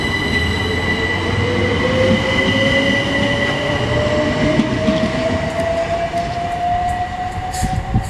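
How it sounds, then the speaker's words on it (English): A new class 377 electric train, unit 377704, runs through Berkhamsted station with a steady rolling rumble, a rising wheel squeal and a high electrical whine, close and loud throughout, with no talking. "Another new train,"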